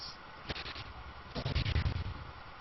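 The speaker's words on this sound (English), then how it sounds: "are going to take a couple hits from the cannons" Cannons firing at zerglings during a StarCraft Protoss versus Zerg match, a quick run of sharp, punchy shots in two clusters, moderately loud amid game effects.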